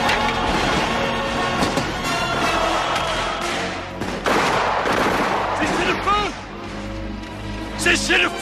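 Volleys of musket gunfire from soldiers ordered to fire, loud, dense and overlapping bursts with heavy thuds, while shouting voices carry over the shots.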